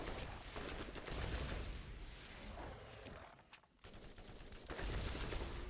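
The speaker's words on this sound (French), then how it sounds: "Bon, j'ai tiré partout sauf à la bonne place." Rapid automatic gunfire in the Borderlands video game, dense loud bursts of shots filling most of the stretch with a brief lull before firing resumes.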